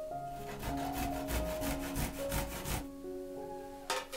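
Steady scraping and rasping of garlic and hard cheese rubbed against a fine grater, repeated strokes close up for a few seconds, then a brief pause and a final scrape.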